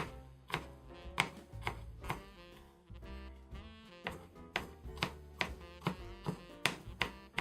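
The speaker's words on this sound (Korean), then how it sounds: "본격적으로 저는 마늘을 다져 볼게요" A knife chops garlic on a cutting board in quick, close, crisp taps, falling into a fairly regular rhythm with brief pauses and no talking.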